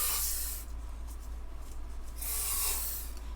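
Two bursts of pressurized spray hissing from a silicone aerosol can during acrylic paint pouring, one at the start and another a couple of seconds later, close and steady.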